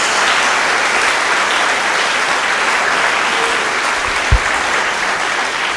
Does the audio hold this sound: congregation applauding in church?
yes